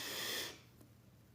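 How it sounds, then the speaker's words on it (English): A deep breath during meditation breathwork, a breathy hiss lasting about half a second before it fades into quiet room tone, followed by a faint second breath sound. "Inhale, hold, and then out."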